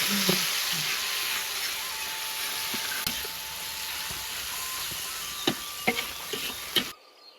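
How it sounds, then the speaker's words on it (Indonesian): A spice paste of galangal and chili fries in a pan with a steady, close sizzling hiss, joined by scattered light pops and clicks near the end. "Iki bumbu eseng-eseng digoreng sik Lur."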